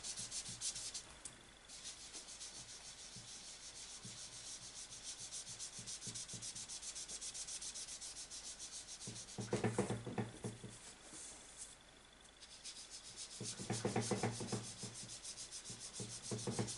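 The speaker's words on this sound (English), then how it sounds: "I just like to give it a bit of a rub just to blend that out" Paper card rubbed to blend and age it, a soft steady scratchy rubbing close up and quiet, with louder bursts of firmer strokes partway through.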